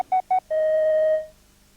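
Telephone dialing tones: two short touch-tone beeps in quick succession followed by a longer steady tone, clean and close with no talk.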